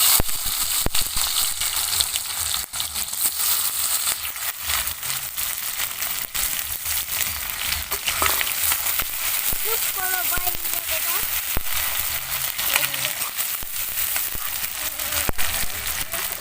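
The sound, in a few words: chopped onion frying in oil with sugar and salt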